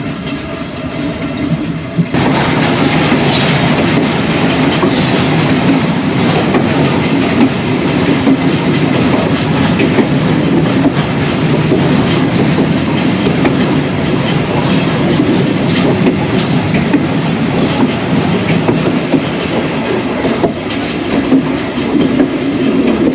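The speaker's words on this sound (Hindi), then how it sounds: "343 किलोमीटर मार्कर पर एक फ्रेट ट्रेन मिली, और जब उसका लोकोमोटिव और कुछ वैगन्स पास हो गई थी" A freight train rolls past close by on a flood-hit line in Sindh, its locomotive and wagons giving a loud, continuous rumble and rhythmic clickety-clack of wheels on rail joints that holds steady for the full duration.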